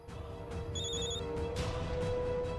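A telephone ringing indoors, a repeating electronic ring tone with bright sustained tones that continues steadily in the background of a quiet room, with no speech.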